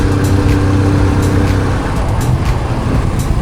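A motorcycle rides along a scenic mountain road toward Dehenakanda in Sri Lanka, giving a loud, steady engine drone mixed with rushing wind noise throughout and no talking.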